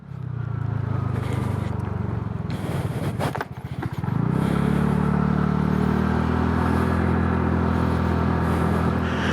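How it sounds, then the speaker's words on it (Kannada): A TVS Ntorq 150 scooter's exhaust note while riding, a loud steady drone that dips briefly and then rises into a stronger, sustained tone as the scooter pulls ahead, with no voices. "ಎಕ್ಸಾಸ್ಟ್ ನೋಟು ನನಗೇನೆ ಹೆಲ್ಮೆಟ್ ಹಾಕ್ಕೊಂಡಿದ್ರು ಕೂಡ ಅಷ್ಟು ಕೇಳಿಸ್ತಾ ಇದೆ"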